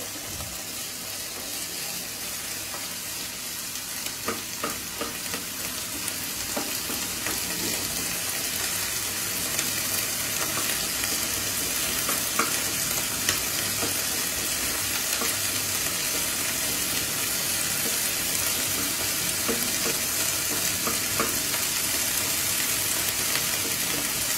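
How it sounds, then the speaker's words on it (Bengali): Spices fry in a pan with a continuous soft sizzle, with occasional stirring scrapes and crackles, steady and close, with no talking. "সমস্ত মশলাগুলি দিয়ে নিলাম। দিয়ে একটুখানি হালকা ভাজা ভাজা করে নিয়ে"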